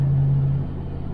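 A 1978 Chevrolet El Camino SS cruises along with a steady, low engine rumble heard from inside the cab, a brief droning tone fading out partway through.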